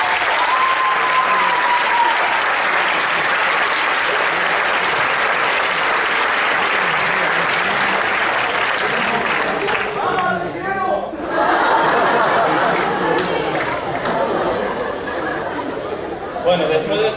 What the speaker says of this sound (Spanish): lo primero que tendríamos que hacer es un aplauso para ellos, por favor